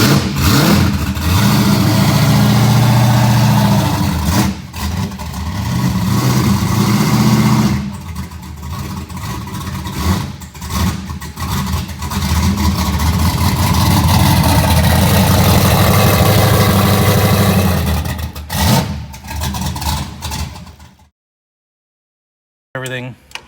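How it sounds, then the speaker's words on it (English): A third-generation car engine fired up for the first time, running steadily with a low rumbling idle and some revving swells, loud and close for about twenty seconds before cutting off, with faint voices now and then. "Getting ready for the first fire up."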